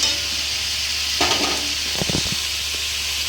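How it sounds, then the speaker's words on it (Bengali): Tilapia fish curry stirred in a pan on the stove, a steady sizzle and hiss with a few scraping, clattering strokes of the spoon against the pan near the end. "এখন এটা নেড়ে চেড়ে দিতে হবে একটু, যাতে ঝোলটা মাছের মধ্যে যায় ভালো রকম।"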